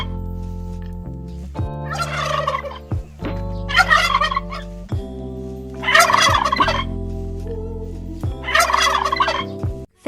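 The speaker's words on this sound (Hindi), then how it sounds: "पेरू पक्षी को इंग्लिश में टर्की कहते हैं।" A turkey gobbling loudly and close by, four distinct rattling gobble calls spaced a couple of seconds apart, each ringing out alone with short pauses between.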